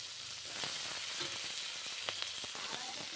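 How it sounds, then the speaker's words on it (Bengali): Onions fry in oil left over from frying Bhola fish, a soft continuous sizzle with a few sharp pops and light stirring clicks, faint and close. "এখন ওই মাছ ভাজা তেলের মধ্যেই পেঁয়াজগুলো ভেজে নেওয়া হচ্ছে"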